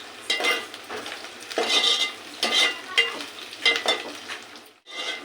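Green chillies and onions frying in a pan, stirred with a utensil: close sizzling with rhythmic scraping and stirring strokes about every half second, a brief pause near the end, no speech.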